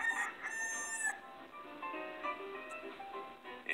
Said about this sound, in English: their beloved pet rooster, China Boy.